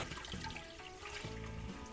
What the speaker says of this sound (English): I'm going to be washing this. We're going to wash until the water turns clear. I'm washing it with cold water.